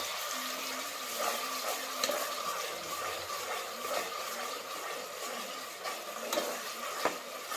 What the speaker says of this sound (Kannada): ಒಂದು ಮೂವತ್ತು ಸೆಕೆಂಡ್ ಮಾತ್ರ ಇದನ್ನು ಫ್ರೈ ಮಾಡ್ಕೊಳ್ಳೋದ್ರಿ